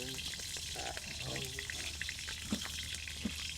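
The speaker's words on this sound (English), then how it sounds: "We got the oil going, ready for the taters." Potatoes, sausage, peppers and onions frying in hot oil at a camp cookout, a steady crackling sizzle with a few sharper pops and faint voices in the background.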